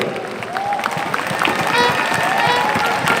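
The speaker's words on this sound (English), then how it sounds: "So clap to your own achievements." Audience applause and crowd cheers at a Jiunesse Thailand sales expo event: a dense, loud wash of clapping mixed with voices and scattered whoops from a large gathering.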